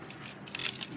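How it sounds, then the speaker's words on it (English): A bunch of keys jangling close by in a short burst of bright metallic clinks and rattles. "here's the keys, guys."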